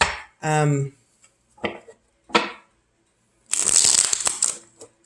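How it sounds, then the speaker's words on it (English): Cards are handled up close in short bursts of riffling and tapping, ending with a longer flurry of shuffling, with a brief voiced sound near the start. "Oops, that was just not a very good shuffle, was it?"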